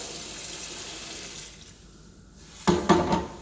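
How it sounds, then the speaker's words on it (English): Water pours into a pot while cooking purple yam root stew; a steady splashing flow runs for about two seconds, fades, then gives way to a few louder clanks and splashes near the end. "So I'm gonna add water here."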